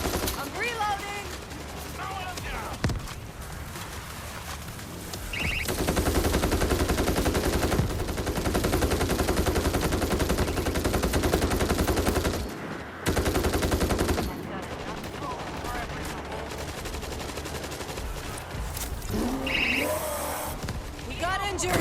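Heavy video-game gunfire in World War Z: Aftermath horde mode on the Rome map, with loud continuous automatic bursts over roughly twenty seconds, brief pauses and restarts, mixed with game effects and players talking over it.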